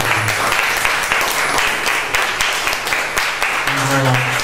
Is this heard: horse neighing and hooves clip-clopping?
no